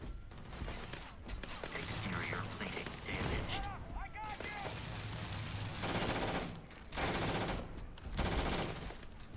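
Sustained bursts of automatic gunfire in the space game Starfield, loud and close, broken by short pauses, with people talking over part of it.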